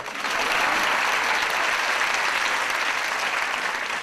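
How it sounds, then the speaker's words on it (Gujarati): Sustained, dense applause from a live audience at a Gujarati comedy show, steady and loud throughout with no speech. "એકવાર મારી પત્ની માટે જોરદાર તાળી વગાડો યાર."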